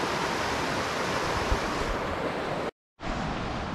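A powerful, big creek in Spearfish Canyon rushes steadily in a dense, loud wash of flowing water, heard close and unbroken apart from a momentary cut near the end.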